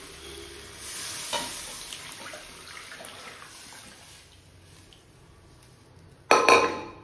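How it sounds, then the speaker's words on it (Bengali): Boiled lentils poured into a pan of fried spices, with soft stirring and scraping before a loud, sudden burst of sizzling near the end, close and with no talk. "এবার ডালটাকে দিয়ে দিই।"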